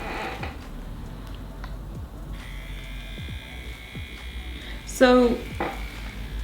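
A Dermapen microneedling device buzzing during a facial treatment, a thin electric whine that starts partway through and holds steady, close by, with a brief spoken word and low room noise around it.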